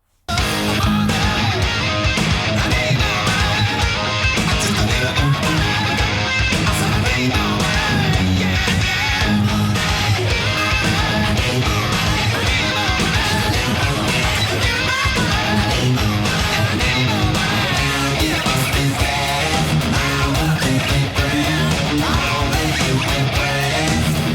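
Busy, rhythmic electric guitar riffing with a funky, choppy feel over a full band, steady and loud throughout; the pre-chorus.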